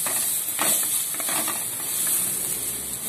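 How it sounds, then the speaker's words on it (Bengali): Steamed papaya pieces fry in mustard oil with a loud, continuous close-up sizzle and hiss, broken by a few scraping stirs near the start. "পেঁপেটাকে লাল লাল করে ভাজতে হবে।"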